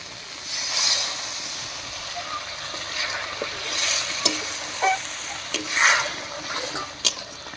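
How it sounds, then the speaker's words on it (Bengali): Spice paste with water being stirred and fried for a Bengali mushroom chicken curry: steady soft sizzling with scraping strokes of a spoon in the pan, close and moderate in level, with no talking. "এবারে মশলা বাটা জল দিয়ে খুব ভালো করে কষিয়ে নেব"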